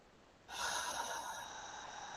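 A deep, steady inhalation during guided breathwork, a broad airy hiss that begins abruptly and holds strongly for over a second before easing slightly, close and alone with no talk.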